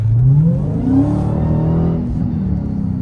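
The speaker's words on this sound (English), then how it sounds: "And this exhaust, it really puts you in this scene, in this feeling of such a muscle car." A 2022 Dodge Challenger Hellcat Redeye Widebody's supercharged engine revs loudly and continuously, rising and falling in pitch with a deep, rumbling exhaust note throughout.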